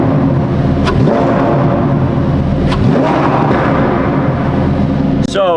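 A Lamborghini Huracan STO engine roars loud and close in a continuous rumbling blast, with a few sharp bursts and a rising whine near the end.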